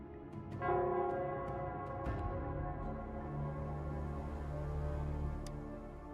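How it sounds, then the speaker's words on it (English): The Nell Squares bell in Wuthering Waves tolls, a single deep, resonant strike that rings out and hums on with a long sustained decay, with faint lighter chimes early on. "it's the Nell Squares bell"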